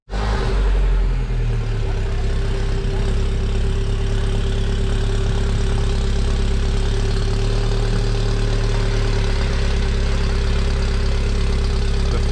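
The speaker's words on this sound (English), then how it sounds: "The first start after the downpipe and software has been installed." A Mini Cooper S R56 with a new downpipe and stage 1 tune fires up and settles into a loud, steady idle, heard close and continuous.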